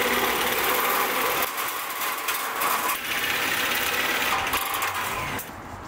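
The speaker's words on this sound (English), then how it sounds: "Once again, using my neighbor's powered tin snips." Powered tin snips cutting an aluminum patch down to size for a hole in a travel trailer shell, a steady buzzing motor drone running near and loud through most of the clip before easing off at the end.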